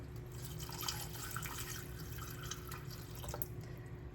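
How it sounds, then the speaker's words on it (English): Beef broth goes into a pot of French onion soup with a faint, steady liquid trickle and light dripping, quiet and close, with no voices. "And then we're gonna add our beef broth"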